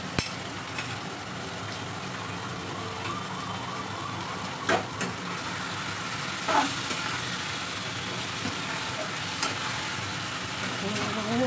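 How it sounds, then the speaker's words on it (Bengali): An onion and spice paste fries and is stirred in a pan, making a steady close sizzle with occasional scraping stirs that continues for the whole stretch. "এবার এই মশলাটা আমি পুরো কষবো আগে, যতক্ষণ না এই কাঁচা গন্ধটা বেরিয়ে যাবে ততক্ষণ"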